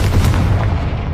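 A Confringo fire spell exploding in Hogwarts Legacy, one short, heavy boom with a rumbling low-end blast and fiery crackle, loud and close, fading quickly.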